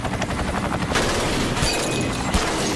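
Gunfire during a school shooting, a rapid burst of shots over a dense, rumbling background that sounds like a helicopter, harsh and continuous with a sharp bang near the end.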